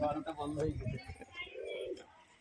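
Pigeons coo softly at a pigeon-flying session with Bali Powder and Turibaz birds, a brief murmur following nearby talk.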